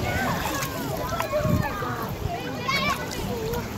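A child kicks and paddles while swimming in a lake, giving soft irregular splashes and sloshing water close by, with an adult voice speaking throughout.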